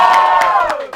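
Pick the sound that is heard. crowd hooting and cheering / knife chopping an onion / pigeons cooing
crowd hooting and cheering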